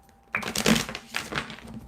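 Tarot cards being shuffled, a crisp riffling burst that rises, pauses, then returns as a second softer flurry, close and alone with no talk.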